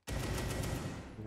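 Rapid automatic fire from an AR-15.50 rifle in a video game, a loud continuous burst of shots lasting about a second with no talk over it.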